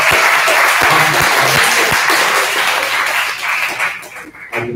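Loud, steady audience applause at a hackathon presentation session, a thick wash of clapping that holds evenly for several seconds before easing slightly, with a few louder claps near the end.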